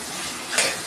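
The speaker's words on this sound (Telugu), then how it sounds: "ఈ ఆయిల్లోనే కొంచెం మగ్గించుకోవాలి, కలిపేసుకోవాలి." Chicken being stirred in hot oil in a pan, a short scrape of the spoon rising over a steady low sizzle, close and fairly quiet.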